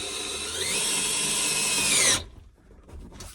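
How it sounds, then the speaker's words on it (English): A power driver whirs steadily for about two seconds while tightening the grab handle fasteners on a new Ford Bronco, then stops abruptly, leaving faint clicks and handling noise. "So put a little downward pressure and then tighten these back down."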